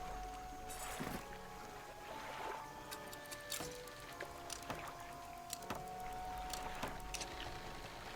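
A small fishing boat's engine in the video game Dredge, a steady low hum with faint water lapping and scattered light clicks throughout, no talk.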